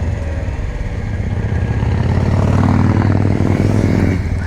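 A 2023 Kawasaki Ninja 400 motorcycle being ridden, its engine droning loud and close with steady revs that climb and then ease off, wind rush over the top.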